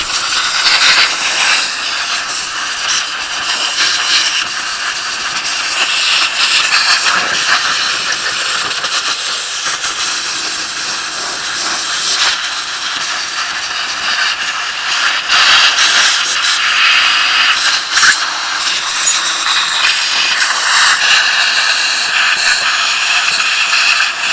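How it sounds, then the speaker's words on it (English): A compressed air gun blasts dirt off the underside of a 1990 truck bed during fuel pump and filler pipe work. The loud, continuous hiss runs unbroken with no talk. "Compressed air, you want to blow all that off."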